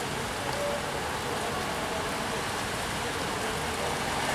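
Steady rain falls on a city street with parked cars, a constant even hiss of drops on pavement with no pauses.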